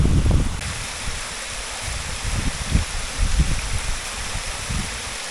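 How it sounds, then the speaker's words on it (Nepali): A mountain waterfall flowing down from Shivadhara on a steep, snowy rock trek sends out a continuous broad rush of water nearby, with low gusts and handling bumps underneath and no talking. "यहाँबाट माथिबाट झरना आएको छ, यो चाहिँ शिवधारैबाट आएको झरना हो।"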